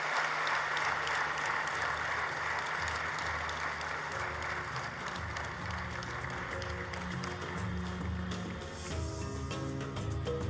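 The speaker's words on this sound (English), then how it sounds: "Let's give that a big round of applause." An audience at a nuclear energy innovation summit gives a round of applause, a dense continuous wash of clapping that holds steady for several seconds with some sound from a public address system underneath.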